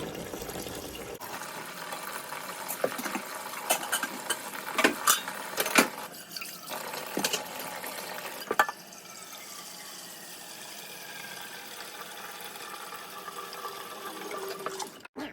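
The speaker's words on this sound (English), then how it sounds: "while my sink is filling with water" Tap water runs steadily into a kitchen sink being filled to wash greens, a continuous hiss and splash that stays moderately quiet and unbroken throughout, with no talk.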